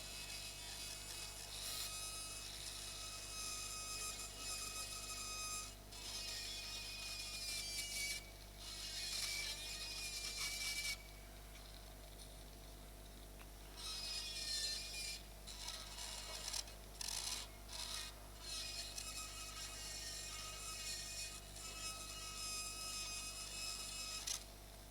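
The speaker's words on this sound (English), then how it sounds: "We have diamond burr. Yeah, smaller size diamond burr." A small diamond burr drilling temporal bone during a dissection, a continuous high-pitched whirring grind that cuts in and out in bursts over a steady low hum, with no talk.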